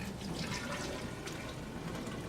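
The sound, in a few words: pouring hydrogen peroxide into a graduated cylinder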